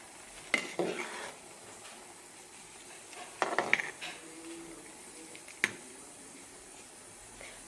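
Rice being stirred in a pot of hot water for biryani: a few quiet scraping and clinking stirs of a utensil against the pot, separated by pauses, close and faint.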